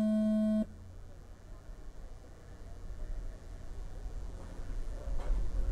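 A loud, steady electronic start tone sounds for about half a second and then cuts off, giving way to race cars at a Stock Touring Car A-Main, a dirt oval event. Their engines stay as a continuous rumble that slowly builds.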